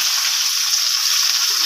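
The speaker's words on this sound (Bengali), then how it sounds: "এবার চিংড়ি মাছগুলো দেবো।" Prawns fry in a kadai of hot oil with panch phoron, giving a loud, dense, continuous hiss and crackle close up.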